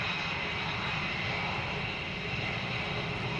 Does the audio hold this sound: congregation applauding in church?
no